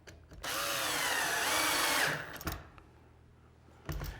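A power drill drives a square-drive washer-head pocket hole screw into an end grain wood joint, one steady whirring run of about a second and a half that stops, then a couple of short clicks and a brief second burst.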